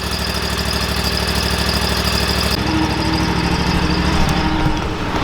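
A 2024 Scag V-Ride 2 stand-on lawn mower engine runs steadily and loudly up close, a dense mechanical drone with a slight shift in tone midway, no talking over it.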